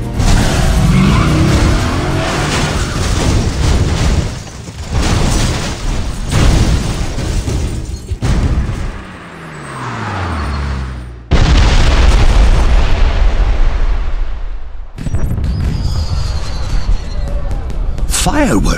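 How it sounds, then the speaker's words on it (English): Booms and explosive bursts from fireworks in the James Bond 007: Blood Stone video game, mixed with car engine noise and tire squeals, several loud hits separated by brief lulls. "Did you know there were going to be fireworks?"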